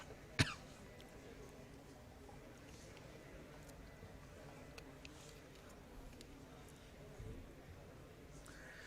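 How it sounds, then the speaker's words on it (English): A single sharp cough bursts out near the start of a talk at an architecture exhibition, then only a low, steady room murmur continues. "I'm having a little bit of cough"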